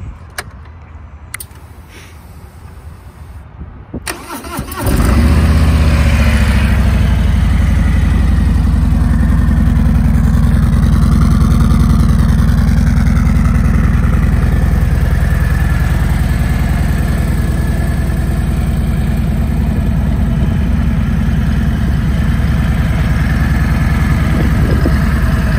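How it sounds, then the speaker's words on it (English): A few quiet clicks, then a 2020 Harley-Davidson Street Glide engine cranks and fires up, settling into a loud, steady rumbling idle that continues to the end. "Let's go ahead and start this bike so you can hear it run."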